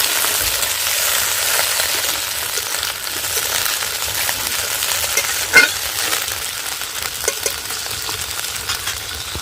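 Grapes drop into hot oil tempered with dried red chilli and five-spice seeds, giving a steady, loud sizzle with stirring scrapes and one brief clink near the middle.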